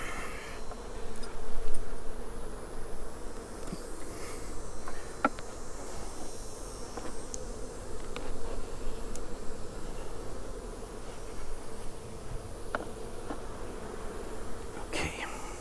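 Honeybees buzz steadily around an opened hive during a harvest check above the queen excluder, a dense, continuous hum at moderate level with occasional light clicks and rustles of frames being handled.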